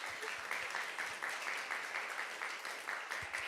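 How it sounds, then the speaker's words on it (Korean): A church young adults' Sunday worship crowd claps steadily to welcome a member being called up, an even, moderately quiet round of applause with no talking. "박수."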